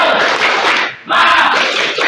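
Students at a high school perform a rhythmic clap chant together, a loud burst of group clapping and shouting with a brief pause before resuming.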